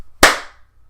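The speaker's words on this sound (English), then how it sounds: "Sorry if you hear claps within the podcast" One sharp hand clap, close and loud, ringing out briefly in a quiet room before fading to near silence.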